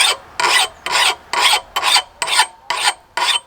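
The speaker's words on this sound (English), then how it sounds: "I'll raise the file even further and do some strokes" Hand file stroked along an axe edge to form a micro bevel, eight even, loud rasping strokes in a steady rhythm with short pauses between them.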